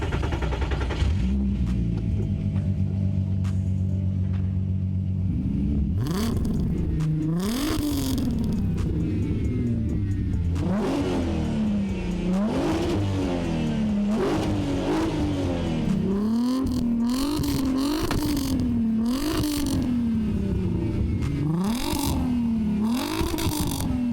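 A VW Golf MK1 fitted with an R32 engine and a custom 70 mm stainless steel exhaust cranks and starts, settles into idle, then is revved repeatedly in a steady series of rising and falling blips, close and loud.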